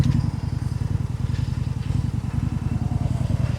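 Indian Scout 101 motorcycle engine heard up close while riding, a steady pulsing V-twin throb with a loud, even rhythm and no talk over it.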